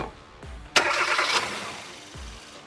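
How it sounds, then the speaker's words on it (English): A car engine cranks briefly with the starter whirring, then catches and settles into a steady idle, close and moderately loud in a quiet space. "And then now I turn the engine on."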